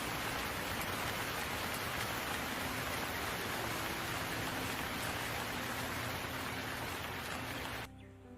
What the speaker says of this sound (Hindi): बारिश तो इतनी तेज थी कि रुकने का नाम ही नहीं ले रही थी।